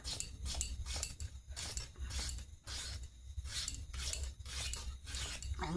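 A kitchen knife slices potatoes into small pieces for frying, producing a quick, steady run of close, crisp chopping and scraping strokes against a board, with no talk.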